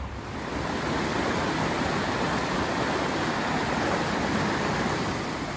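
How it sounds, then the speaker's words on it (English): Boulder Creek rushing along near the University of Colorado campus in Boulder, a steady broadband wash of flowing water that holds constant and fairly loud throughout, with no voices. "We're in Boulder walking along a creek"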